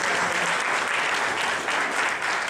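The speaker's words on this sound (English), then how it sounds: "So give yourselves a round of applause, because you're the reason that we work." Steady, dense audience applause fills the whole stretch at an even level, a crowd clapping together at a charity gathering with no voices rising above it.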